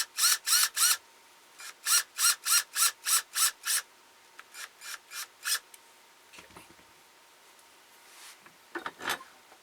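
A 1 5/8 inch screw is driven into the wooden body of a ventriloquist dummy, heard as bursts of rhythmic rasping grinds from a driver, followed by a pause and a few shorter runs.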